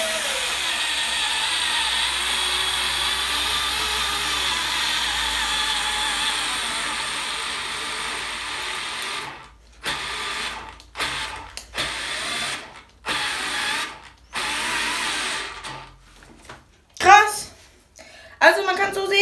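A small Würth AS 4 / Bosch GO 2 cordless screwdriver drives a screw into hard wood without a pilot hole, a steady whirring motor followed by several short stalling bursts as it retries, with someone talking between them.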